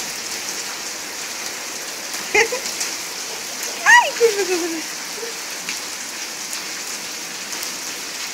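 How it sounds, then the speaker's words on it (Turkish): Steady hiss of rain falling continuously, with a voice and brief speech and squeals rising over it. "Aa, yağmur yağıyor kızımın üstüne"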